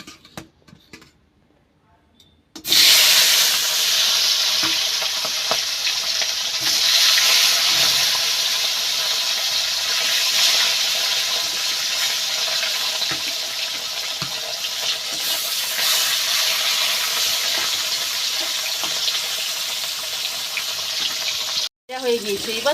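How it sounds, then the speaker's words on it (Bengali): Pieces of fish frying in hot oil, a steady loud crackling sizzle that starts abruptly and continues without letup. "এইবার এক এক পিস মাছ দিয়ে ভালো করে ভাজা করে নেব।"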